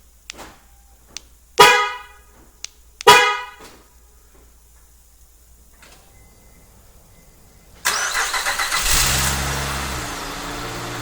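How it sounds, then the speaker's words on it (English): A 2006-2014 Honda Ridgeline fitted with an aftermarket remote starter, heard outdoors: two short horn chirps a second and a half apart, a quiet pause, then the engine cranks and catches into a steady idle. "We're going to activate remote start."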